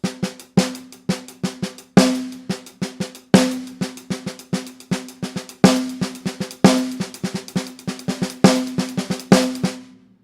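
A snare drum plays a steady stream of paradiddle strokes at a moderate tempo, with the second stroke of each group accented, producing crisp, evenly spaced hits that swell and fade in a repeating cycle.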